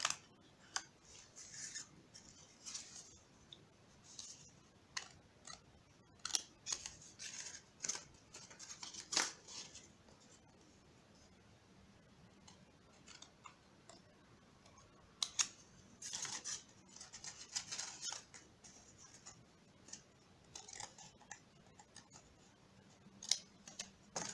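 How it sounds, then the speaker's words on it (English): Scissors snip through cardboard paper to cut a module for a geometric icosahedron model, giving a run of quiet, irregular crisp clicks and short cuts with no talk. "If you put it like this, you can cut until to the middle of the paper."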